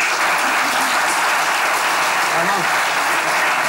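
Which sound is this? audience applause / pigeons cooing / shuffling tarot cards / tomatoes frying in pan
audience applause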